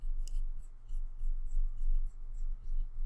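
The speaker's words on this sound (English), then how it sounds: "I'm going to go back and erase it using this eraser." An eraser rubs a light pencil line off paper in a series of short, brisk back-and-forth strokes, close and moderately loud over a low steady hum.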